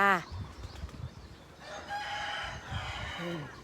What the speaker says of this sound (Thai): เสียงไก่ค่ะ